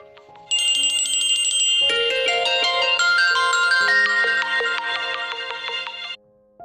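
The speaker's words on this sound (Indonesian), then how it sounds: "Ternyata itu suara jam dan aku terbangun dari tidurku." An alarm clock rings in bright, tonal electronic bursts that start after a brief quiet lead-in, change to a denser chiming pattern partway through, stay loud and continuous, then cut off near the end.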